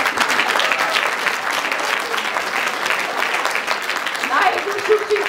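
An audience claps steadily for children at a Mother Language Day event: dense, sustained applause from a crowd, fairly loud and close, continuing without a break throughout.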